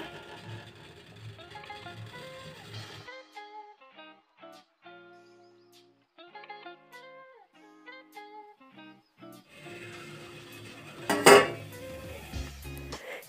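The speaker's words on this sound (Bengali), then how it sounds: "এবার এই ঢাকনাটা আমি এর উপরে দিয়ে দেবো" A metal lid is set over a pot of steaming pitha rice cakes for Poush Sankranti, landing with a single sharp clank near the end after quieter kitchen sounds and soft background music.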